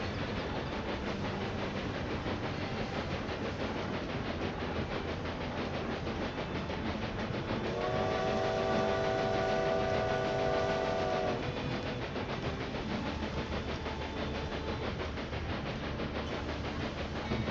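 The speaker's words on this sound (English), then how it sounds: "At this point, the train should be able to pass." A train in the railway building game Railway Empire 2 rumbles steadily along the track, with a long horn blast sounding in the middle before the rolling clatter carries on, loud and continuous.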